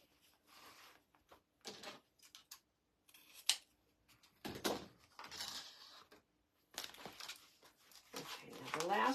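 Scissors cutting black and orange silk ribbon for a Halloween cat wreath: a series of short, close snipping and rustling bursts with pauses between, quiet and crisp, in a calm indoor room.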